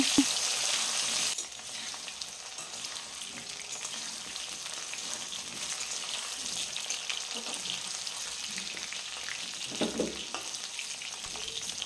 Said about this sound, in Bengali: আলু এদিকে ভাজা চলছে